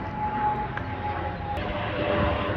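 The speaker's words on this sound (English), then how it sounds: "a plane's going overhead and right above the studio" A propeller airplane drones steadily overhead above a studio, a broad continuous engine roar with a faint whining tone, fairly loud and unbroken throughout with no voices.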